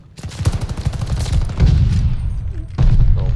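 Rapid gunfire from Call of Duty Vanguard during a ranked Hardpoint match: dense bursts of automatic shots crackle loudly and continuously, with heavier blasts surging near the end.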